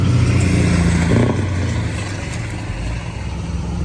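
A Scania truck with a straight-pipe exhaust roars loudly nearby, a dense, rough low rumble that eases slightly after the first second and then holds steady.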